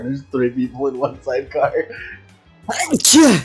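A short, sharp sneeze bursts out right after a stretch of casual talk, loud and close.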